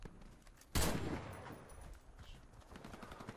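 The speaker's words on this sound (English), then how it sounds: "Sometimes you have to give a warning shot on the opposite window," A single sharp gunshot bursts out in a video game team deathmatch, followed by a fading rumble and faint game ambience, with no talking.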